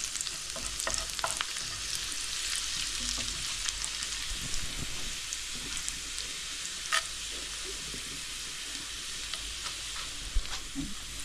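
Garlic and dried red chilies fry in hot oil for a taro-leaf dish, giving a steady, close sizzle with scattered crackles and pops and occasional scraping of a stirring spoon.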